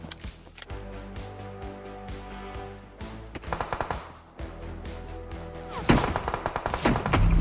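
Rapid bursts of gunfire in the mobile battle royale game BGMI (Battlegrounds Mobile India), loud and close, with clustered volleys that intensify toward the end over steady game background sound.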